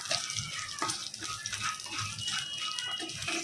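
Bay leaf and garam masala sizzling in a pan of ghee and oil, a steady close crackling hiss with small pops, running alone with no voices.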